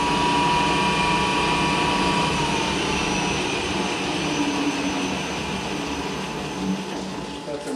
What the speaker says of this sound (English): Let's shut it down and gauge our lead screw and see how the threading does.